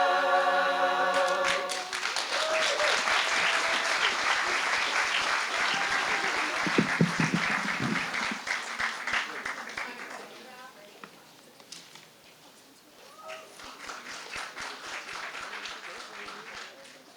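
An audience claps loudly for a choir, a dense burst of applause that thins and fades. A voice speaks over the clapping as it dies down, and a second, smaller wave of claps follows.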